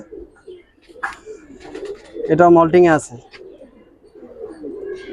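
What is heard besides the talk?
Brahma pigeons cooing in a loft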